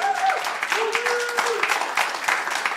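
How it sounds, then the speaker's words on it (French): A church congregation applauding at a French-language service, dense sustained clapping with some cheers and raised voices calling out over it. "Alors Bertrand, accueillons-le debout avec applaudissements."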